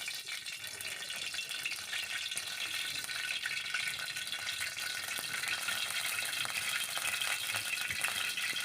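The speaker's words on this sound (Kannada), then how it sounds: "ಇವಾಗ ಬಾಣಲಿ ಬಿಸಿಯಾಗಿದೆ ಅದಕ್ಕೆ ಒಂದು ಸ್ವಲ್ಪ ಎಣ್ಣೆ ಕೂಡ ಹಾಕೋತಾ ಇದ್ದೀನಿ" Oil heating in a hot frying pan gives off a steady, fine sizzle and crackle, continuous and fairly quiet at close range with no talk.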